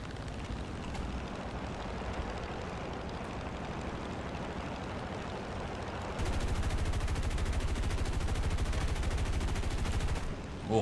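Rapid aircraft machine-gun fire from a P-47 Thunderbolt in War Thunder flight combat, a dense continuous burst over steady engine roar that grows louder and busier in the second half.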